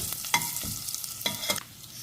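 Garlic frying in hot oil in a pan for rasam, a steady close sizzle broken by a few scraping stirs of a spatula, with no talking.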